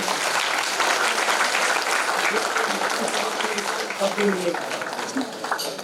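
Audience applause for prize winners at a Brahma Kumaris exam prize event, a steady wash of many hands clapping at full strength for several seconds, slowly tapering toward the end.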